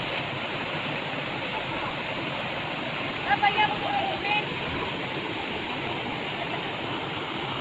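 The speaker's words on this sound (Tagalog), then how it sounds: "ang lakas ng tubig, lakas ng agos." Strong rushing water at a waterfall roars as a constant, dense wash of noise, loud and close, with a few brief faint voices or whistles rising over it midway.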